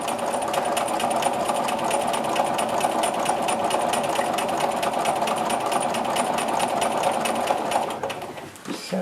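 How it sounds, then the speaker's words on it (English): A sewing machine runs steadily and slowly while stitching a grid-based orange peel quilting line, an even, continuous whir with rapid needle pulses that stops near the end. "I find that sewing more slowly gives me more accuracy, better stitch consistency."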